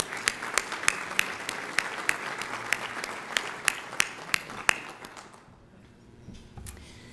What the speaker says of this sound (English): Let's give a round of applause to Police Chief Potts and the Bloomington Police Honor Guard.